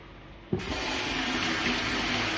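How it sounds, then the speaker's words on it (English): Tap water suddenly gushes into a kitchen sink as fresh garden tomatoes are washed, starting as an abrupt splash and then holding a loud, steady rushing stream close by. "So we're just gonna wash them"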